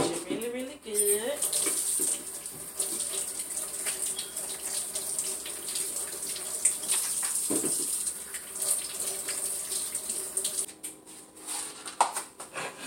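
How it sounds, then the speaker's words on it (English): Raw chicken rinsed under a running kitchen tap, water gushing and splashing steadily for the whole stretch, close and fairly loud, with brief voice sounds mixed in near the start. "I'm going to go ahead and wash my meat."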